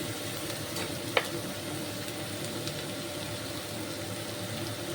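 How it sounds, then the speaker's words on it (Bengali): Chopped onions sizzle in hot oil in a pan, a quiet, even frying hiss with one sharp utensil clink near the start. "তেল গরম হয়ে গেছে, এবারে এর মধ্যে পেঁয়াজ কুচনো দিয়ে দেবো।"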